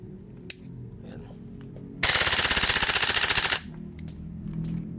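A CYMA airsoft AR rifle fires, a sharp single crack followed by a loud full-auto burst of rapid, evenly spaced clacks lasting about a second and a half, close up, with quiet handling sounds around it.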